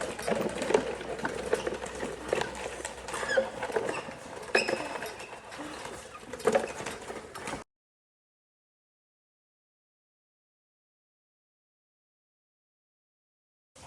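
A hand-cranked home cider press grinds and creaks steadily while apples are pressed, close and moderately loud for about eight seconds before it stops abruptly into silence.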